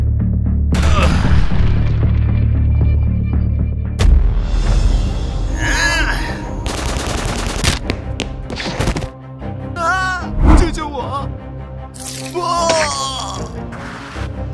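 Animated gunfire and grenade blasts from an SCP-style battle, sharp booms and bursts among shouting voices and sound effects, loud and busy throughout.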